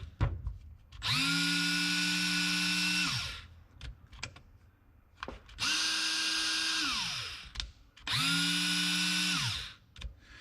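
A Snap-on cordless polishing tool on a low battery runs in three separate bursts of about two seconds each, with a steady whirring hum that rises and falls at each start and stop, loud and close with short quiet gaps between.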